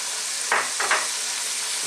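Chicken for sinampalukang manok sizzles steadily in a pot, with two brief scraping stirs of a spoon partway through and no voices.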